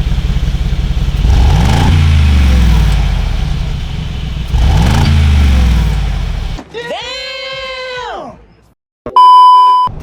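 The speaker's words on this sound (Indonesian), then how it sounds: "ini knalpotnya ada valve-nya loh dari pabriknya, jadi bisa lo tekan ntar valve-nya kebuka, kedengeran deh pokoknya knalpotnya" A Mercedes-Benz G63 AMG with its factory exhaust valve open revs loudly twice in close, deep bursts, then falls quiet before a few short electronic beeps sound.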